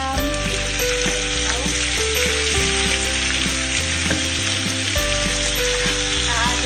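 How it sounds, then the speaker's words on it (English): Prawns fry with chili and garlic in a hot pan, a loud continuous sizzle with crackling spits and stirring, heard close and without talk. "I'm now going to add the prawns because I don't want to burn them."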